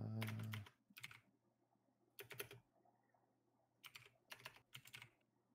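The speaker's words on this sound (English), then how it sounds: "I'll wait until you're done typing that." Clusters of rapid keystrokes rattle on a computer keyboard during a C# programming lesson, coming in separate bursts with quiet pauses between them and no talking.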